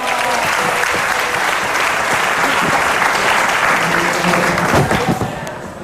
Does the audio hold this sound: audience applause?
yes